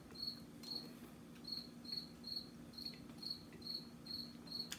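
A lone cricket chirps in short, evenly spaced bursts, about two per second, steady and fairly faint against a quiet low background hum.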